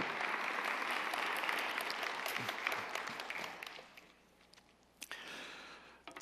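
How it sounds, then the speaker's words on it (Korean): A church congregation bursts into warm, sustained applause of welcome during a fasting retreat service, a dense crowd of clapping that swells and then gradually thins out toward the end. "우리 큰 박수로 환영하겠습니다."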